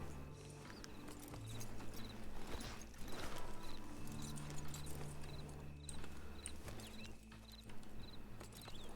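Horse hooves clip-clop at a steady walking pace in the RedM roleplay game at Beecher's Hope, with a low hum and faint ambient game tones underneath.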